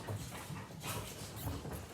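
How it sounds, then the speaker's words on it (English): Dogs playing somewhere in the house, heard faintly in the background as soft whimpers, pants and scuffling under a noisy room tone. "that's the dogs playing"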